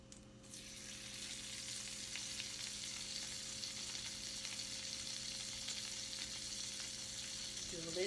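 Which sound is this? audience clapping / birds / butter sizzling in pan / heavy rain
butter sizzling in pan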